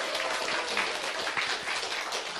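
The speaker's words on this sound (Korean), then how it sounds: "큰 박수로 모시겠습니다." A business seminar audience welcoming a speaker on stage with steady, dense clapping that fills the room at an even level for a couple of seconds.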